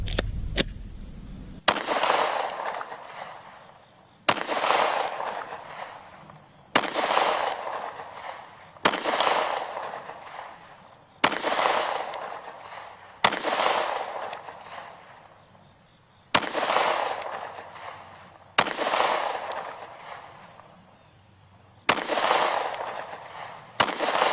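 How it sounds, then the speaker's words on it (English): Ten rounds fired from a CZ P10C pistol with a Primary Machine match-grade barrel, outdoors at a target: loud, sharp reports spaced about two to three seconds apart, each followed by a lingering echoing tail. "I'm going to shoot 10 rounds at the head of that target"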